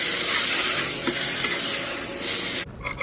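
Washed greens and green chillies sauté in a pan as part of making chicken dum biryani, a loud, close, steady sizzle with stirring strokes that cuts off abruptly near the end.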